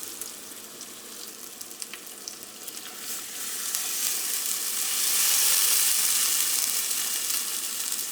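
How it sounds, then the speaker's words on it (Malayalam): Crab curry sizzles loudly in a pan as water is poured in, a steady broadband hiss that swells midway and stays strong, with faint stirring clicks and no talking. "ഈ ക്രാബ് വേവിച്ചെടുക്കാൻ ആവശ്യത്തിനുള്ള വെള്ളം ചേർക്കണം."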